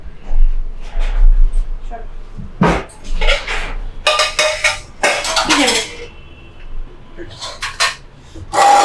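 Plates clatter and clink loudly nearby as khichuri is served at home, with irregular knocks and scrapes of crockery and utensils and people talking in between.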